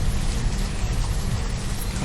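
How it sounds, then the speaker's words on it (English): Steady rain falls in the city-building video game Banished, a dense, even hiss of drops that holds at one level throughout with no other sounds standing out. "Here we go, hear that rain."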